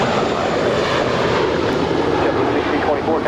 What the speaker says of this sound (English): That is the JetBlue Airways Airbus A320-231 that is flight 1624, taking off for a flight to JFK, New York.